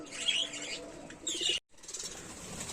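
A budgerigar colony gives dense, high chirping and chatter over a steady rustling background, with a brief drop to near silence partway through.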